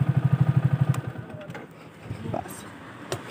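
A Hero motorcycle engine, imitated by a voice as a rapid, evenly pulsing putter for about a second. Quieter rumble, a few clatters and brief sounds from a trail ride follow.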